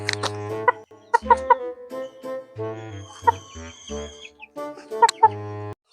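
A chicken clucks close by in short repeated bursts with a few sharp higher squawks, spaced unevenly over several seconds, with no talking.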